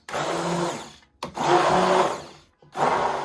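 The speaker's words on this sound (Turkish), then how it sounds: "Ve tekrar güzelce bir blenderdan geçiriyoruz." A blender whirs through lentil crepe batter with milk and egg in three loud bursts, each a second or so long, separated by brief pauses.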